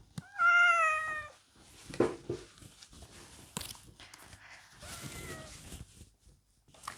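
A tomcat gives one loud, drawn-out meow close by at the start, followed by softer rustling and movement sounds, and then a fainter second cry.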